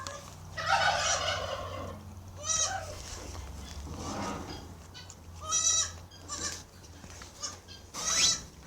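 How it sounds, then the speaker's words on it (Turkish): Several bleating calls from tiny young goats in İzmir, some high and quavering, sound up close in short bursts with pauses, over a quiet outdoor background. "Ay keçilere bak abi küçücük"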